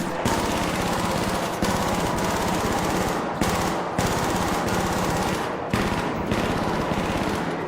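A turret in the ARC Raiders shooter fires sustained rapid automatic bursts, loud and steady, with a few short gaps between long strings of shots and no talk over them.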